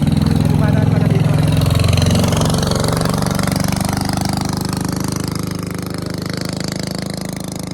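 A motorboat passes with a steady low engine drone throughout, loud at first and easing slightly as it moves off, with voices talking over it.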